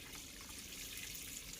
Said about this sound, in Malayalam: എന്തിനാ ഇങ്ങനെ വെള്ളം കളയുന്നേ?